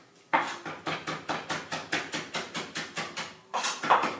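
Knife chopping parsley finely on a board: a fast, even run of about a dozen sharp taps, a short pause, then a few more quick chops, close and clear with no talking.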